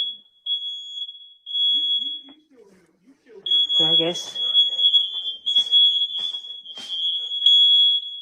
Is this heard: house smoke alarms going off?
yes